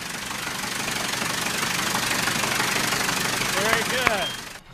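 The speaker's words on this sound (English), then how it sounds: "how a Wright engine really sounds" A reconstructed Wright brothers aircraft engine runs close by with a steady, rough mechanical drone and knocking throb, a few higher tonal whines near the end before it cuts off abruptly.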